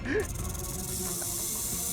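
A snake hissing, a steady breathy hiss close by that runs unbroken after a brief voice-like sound at the start, within a tense scene.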